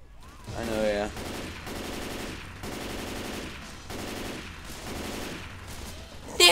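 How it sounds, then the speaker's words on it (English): Sustained automatic gunfire from the video game Left 4 Dead 2, rapid bursts repeating in steady waves with brief gaps between them, loud and close, with a sharp louder hit at the very end. "stop shooting me!"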